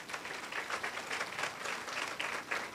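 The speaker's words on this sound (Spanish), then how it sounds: "un aplauso fuerte" An audience at an indoor meeting applauds with continuous clapping that swells and dips, heard fairly faint and distant with no voices over it.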